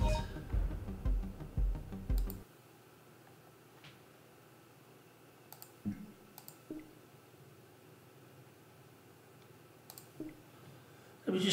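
Computer keyboard clicks come in a short dense burst at the start over other noise, then sparse isolated taps and clicks follow through a quiet stretch, fairly close and moderately loud.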